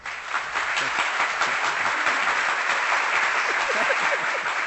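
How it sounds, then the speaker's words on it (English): A live audience gives a loud, roaring round of applause, dense steady clapping that carries on unbroken for several seconds. "I got to give you a roaring round of applause"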